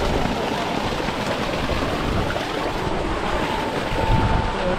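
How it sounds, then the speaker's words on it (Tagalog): A 3HP solar-powered water pump driven by six solar panels sends out a strong, steady rush of gushing water, loud and continuous with wind buffeting the microphone outdoors. "ang bulwak ng tubig"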